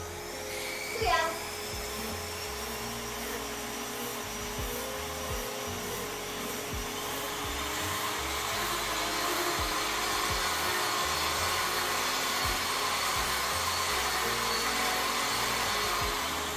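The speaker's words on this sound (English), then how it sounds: "back to sanding" Power sander working on Barioth cosplay armor for Monster Hunter Rise, a steady loud whine running continuously with a brief louder bump near the start and a slight rise in intensity later.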